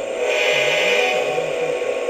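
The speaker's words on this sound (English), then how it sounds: "That's a pretty good sounding horn." A model railroad diesel locomotive sound system plays its horn, a steady tinny electronic tone with a continuous hum beneath, close and loud, with no talking.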